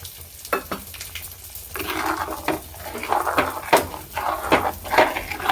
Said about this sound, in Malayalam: ഇത്തിരി മോര് കൂടെ ഞാൻ ചേർക്കുകയാണ്